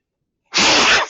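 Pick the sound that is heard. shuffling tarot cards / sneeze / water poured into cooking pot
sneeze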